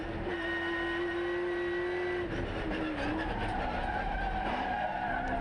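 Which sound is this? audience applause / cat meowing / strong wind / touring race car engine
touring race car engine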